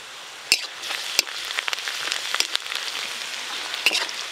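Chopped onions with ginger and garlic frying in a pan for a catla fish curry, giving a steady bright sizzle with a few sharp crackles and pops, close and fairly loud, with no talking.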